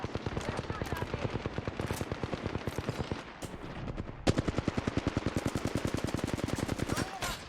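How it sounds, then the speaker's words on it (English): Gunfire in the Apex Legends battle royale game, rapid sustained automatic bursts of loud shots in fast even rhythm with a brief pause midway, dense and close. "They're shooting at me."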